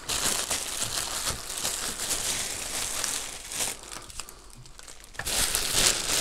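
A plastic bag being crinkled and handled close up, steady rustling and crackling throughout with a louder burst near the end, no talking.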